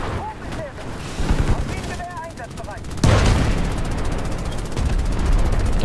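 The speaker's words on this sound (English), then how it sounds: "More bombs!" Bombs and gunfire in the War Thunder tank battle game, a dense stream of explosions with a heavy burst midway, under excited talking.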